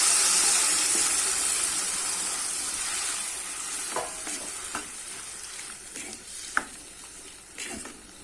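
Chopped tomatoes are tipped into hot oil with onion and curry leaves for tomato kadayal. A loud hissing sizzle eases to a steady fry, broken by scattered clinks and scrapes of stirring.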